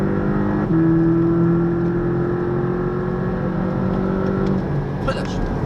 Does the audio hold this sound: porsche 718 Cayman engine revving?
yes